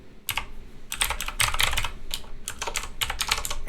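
Someone types TypeScript code on a computer keyboard: clustered, clacky keystrokes in quick bursts, close and fairly loud, over a soft steady room noise.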